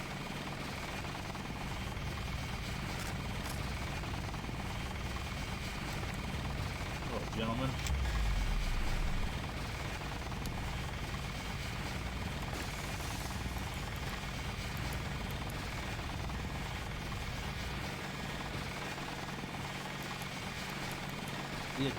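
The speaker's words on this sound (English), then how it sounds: "The attack helicopter." Attack helicopter in the video game Deus Ex, a steady rotor and engine drone running continuously throughout, with a brief louder low rumble partway in and a voice speaking briefly over it.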